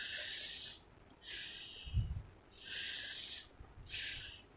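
A person demonstrates breathing in and out, with slow, airy breaths in a calm rhythm, each lasting about a second and separated by short pauses. The breaths sound close and soft, with one brief snort-like puff in the middle.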